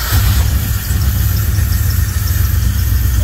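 A modified Mitsubishi Triton fitted with an LS1 V8 engine runs at idle, a loud, close, steady rumble with a heavy low throb and no talking over it.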